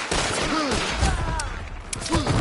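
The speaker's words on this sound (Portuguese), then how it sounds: "Dei dois tiros nele, dei dois tiros nele." Gunfire in a zombie shooter video game, a quick series of sharp shots crackling close and loud, with muffled game noise beneath.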